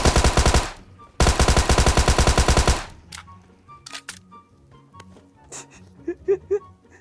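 Rapid bursts of MK automatic gunfire in the PUBG Metro Royale video game, two long loud volleys up close followed by scattered quieter shots and game sounds.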